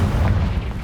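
A Confringo fire spell detonating in Hogwarts Legacy, a loud, dense low boom that rumbles through the whole moment with no clear decay.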